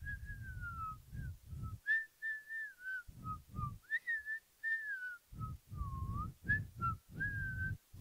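A young woman whistling a Christmas tune alone, clear sustained melodic phrases with short pauses between notes, close and moderately loud.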